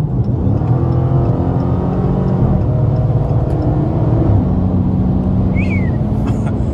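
A Dodge Scat Pack accelerates at night, its engine rising with a steady whine over the road rumble and holding loud and close for several seconds with no talk.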